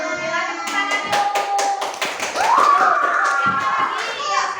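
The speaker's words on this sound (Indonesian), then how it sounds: "Tepuk tangan yuk." Classroom of children clapping their hands in a few sharp, uneven bursts while young voices chatter and call out over the claps.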